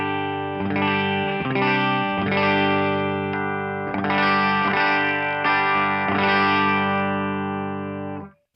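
Electric guitar with humbuckers played through a Great Eastern FX Design-A-Drive pedal into a Dumble-clone amp, giving a rich clean tone with slight breakup. Sustained, strummed chords ring loud and alone, with a few re-attacks before a final fade.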